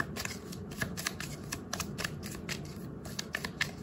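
Tarot cards being shuffled by hand, a soft, steady riffling and flicking with small repeated snaps, close and fairly quiet with no talking.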